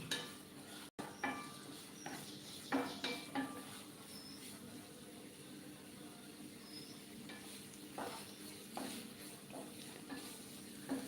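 Ingredients sautéing in a pan for a Kerala-style fish curry (vellari meen curry), with a soft steady sizzle and intermittent stirring and utensil clinks against the pan, moderately quiet and free of talk.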